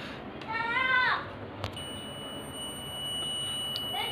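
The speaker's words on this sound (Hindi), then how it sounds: "बजर आवाज़ कर रहा है, इसका मतलब वायर पूरी तरह से ठीक है।" A multimeter's continuity buzzer sounds during a wire check, holding a steady high electronic tone after a short warbling burst, with faint background noise.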